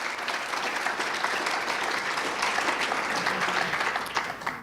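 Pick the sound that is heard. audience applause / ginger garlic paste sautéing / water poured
audience applause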